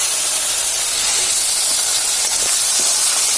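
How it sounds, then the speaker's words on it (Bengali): Prawns frying in hot oil, a loud, dense, continuous hiss and sizzle that stays steady throughout, close and unbroken. "মা এখন চিংড়ি মাছগুলো দিয়ে দিচ্ছে"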